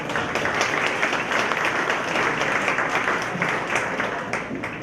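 An audience claps steadily in a dense, even wash of applause at a Medfield town-wide master plan meeting, with faint talk underneath.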